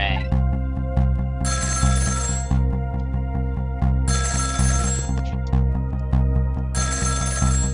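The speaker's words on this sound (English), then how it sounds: "About 2 hours before dawn, the phone rang." An old-style telephone bell rings in repeated bursts in the video game Ghost Trick, loud and insistent over a steady, droning music bed.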